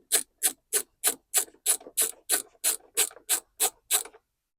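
A 5/16 wrench ratchets open the air cleaner cover on a lawnmower, making about a dozen evenly spaced, crisp clicking strokes up close with no talking, then stopping.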